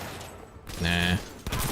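Gunfire in the video game Cyberpunk 2077 set in Night City: a short burst of rapid automatic fire, loud and close, between muffled game ambience and a brief voice.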